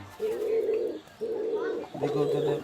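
Giribaz pigeons coo in three low, throaty bursts, close by, each about a second long with short pauses between.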